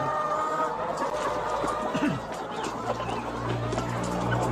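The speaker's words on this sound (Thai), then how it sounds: "ไก่มีความสุขนะครับ เพราะมันเป็นมันชอบมากินนอนอยู่แล้ว" Farm chickens being fed black soldier fly larvae cluck and chatter close by in a steady, busy murmur, with a few louder squawks.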